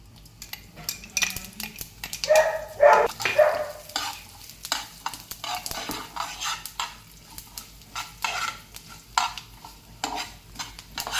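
Cumin, mustard and white sesame seeds sizzle and crackle in hot oil for Punjabi aloo-suji snacks, with a spoon stirring and scraping against the pan in irregular bursts close by.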